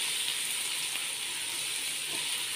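Chopped ginger and garlic frying in hot oil, a steady bright sizzling hiss that holds evenly without pause, with no voices.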